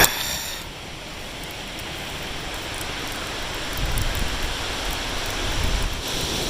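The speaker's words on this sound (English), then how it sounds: "the wind really kicked up, started raining a little bit" Wind gusting and light rain on the Appalachian Trail near Clingmans Dome, a constant broad rushing hiss with occasional low buffeting swells, no voices.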